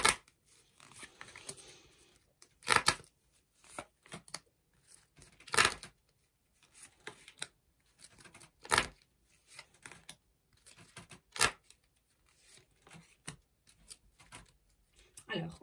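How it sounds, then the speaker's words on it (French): Oracle cards being shuffled and drawn make soft, close papery flicks and snaps, sharp isolated card slaps among quieter rustling in a hushed room. "On tire 5 cartes."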